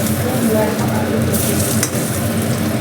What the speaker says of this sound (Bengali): এই দেখো মাছ ভাজতে দিয়েছি আর খুব কাতলা মাছ এনেছিল এবার